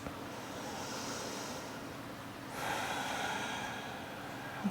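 A person doing yoga takes slow, soft breaths, a faint airy inhale followed by a slightly louder exhale, close and quiet with no talking.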